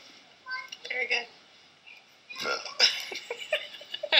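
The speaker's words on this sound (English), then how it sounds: "Burp." Several loud, guttural burps erupt up close from a person, with breathy bursts and vocal noises in between.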